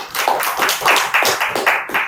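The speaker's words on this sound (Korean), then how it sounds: "영광의 박수 한번 드렸어요." Rhythmic clapping from a church congregation at a prayer retreat service, steady unison beats about four per second, close and fairly loud with no talk over it.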